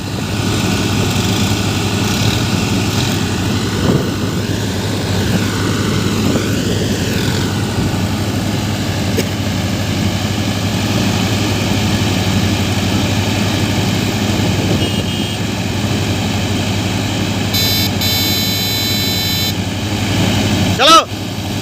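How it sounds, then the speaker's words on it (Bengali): Four four-wheel-drive tractors (Massey 254, Sonalika 50 RX, Mahindra 585 and Powertrac Euro 50) running together with rotavators, a loud, steady diesel drone with a heavy low hum that continues unbroken, with a few faint whines and clanks near the end. "Massey 254 four wheel drive, Sonalika 50 RX four wheel drive, Mahindra 585 four wheel drive আর পাওয়ার track euro 50 four wheel drive সবাই একসঙ্গেই চলবে"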